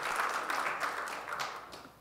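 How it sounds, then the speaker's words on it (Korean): Steady applause from a church congregation during a Sunday service, a continuous wash of clapping that thins slightly toward the end. "우리 하소미 목장을 위해서 한 박수 한번 보내겠습니다"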